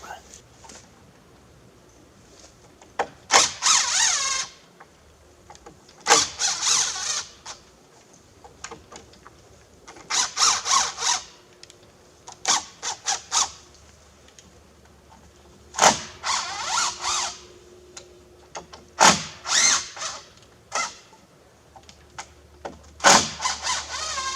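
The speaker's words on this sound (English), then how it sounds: "Just have to back the screws out and run them back in, and that should close that gap." Power drill drives screws back into roof boards on an off-grid A-frame cabin, heard as several loud, short whirring bursts separated by pauses, close by.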